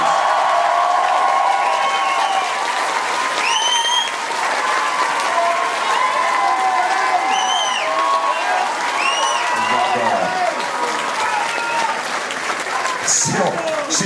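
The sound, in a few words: audience applause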